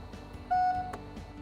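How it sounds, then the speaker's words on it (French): A single short electronic beep from the tailgate memory button of a Mercedes-Benz GLB, sounding on a long press, clear and steady for a fraction of a second over faint background noise. "une sonnerie retentit"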